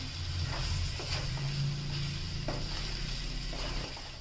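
Boiled mutton liver with soy greens sizzles steadily in hot oil while a spoon scrapes and stirs through the pan, close and continuous with occasional light knocks.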